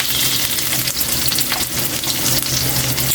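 Octopus pieces sizzling in a hot pan for adobong octopus, a loud, close, continuous crackle and hiss with faint stirring scrapes, no talking.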